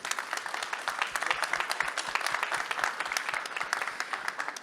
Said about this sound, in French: Donc on peut passer aux applaudissements